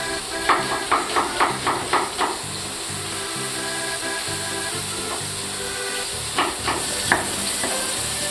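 Thick cod fillet cooking in a pan, a steady sizzle running throughout with a series of rhythmic knocks and clatters, likely knife or utensil work nearby, loud and close with no talking.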